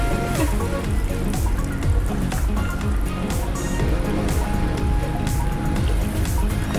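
Water poured onto lemon pulp for lemonade makes a continuous splashing, gurgling fill, loud and close, with no break.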